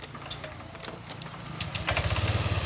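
A Honda Vario 125 scooter engine with a throttle fault idles after a restart, a close, ticking putter that grows louder and more rhythmic toward the end, with no talking.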